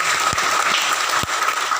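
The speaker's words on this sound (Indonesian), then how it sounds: "Tepuk tangan lagi sekali buat kita semua" Audience at a village development gathering bursts into steady, dense applause, loud and close throughout, with a few low thumps cutting through the clapping.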